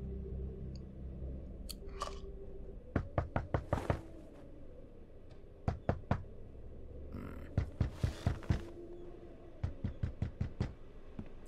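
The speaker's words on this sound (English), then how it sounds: "Who's knocking my door off like that?" Door knocking in the video game The Wolf Among Us: several bursts of sharp, rapid knocks in quick rhythmic runs of four to six raps, loud and close, with a low background game hum between them.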